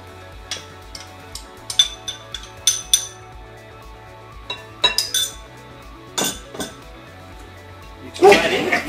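A spoon scoops sour cream into a bowl while making a baked cheesecake, giving a scattered run of light metallic clinks and taps against the bowl, close and fairly quiet, with a steady soft background underneath.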